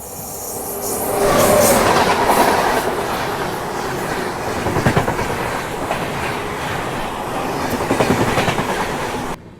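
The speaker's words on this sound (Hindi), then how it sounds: "अभी सामने से आ रही है legendary north east express Kamakhya Anand Vihar" The North East Express from Kamakhya to Anand Vihar rushes past at close range, a loud sustained roar of wheels with rhythmic clickety-clack and some squealing, fading slightly at the end.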